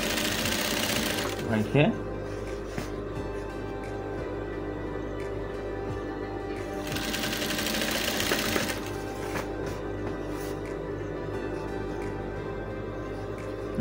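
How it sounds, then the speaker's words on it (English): Sewing machine stitching a dashiki garment, running steadily throughout with a brief pause, while a person speaks briefly nearby. "So we sew this"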